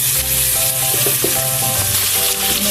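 Oil sizzles steadily in a pan while dal is being cooked, a loud continuous frying hiss with a low tonal hum underneath, close and unbroken, with no voices.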